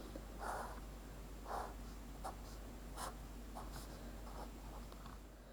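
A pen moves across paper drawing a maths diagram, several short scratchy strokes in bursts with pauses between them, close and quiet over a faint steady background hum.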